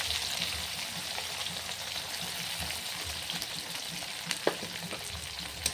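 Chopped onion frying in hot oil with cumin, dried chillies and bay leaves for ghugni, a soft steady sizzle up close with a few sharp spits and clicks near the end, no voices.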